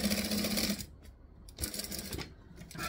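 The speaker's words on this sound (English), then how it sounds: "I'm gonna stitch a quarter inch seam allowance" A sewing machine stitches a seam on a travel bag in short bursts of rapid mechanical whirring, with brief pauses between runs, close up and without talk.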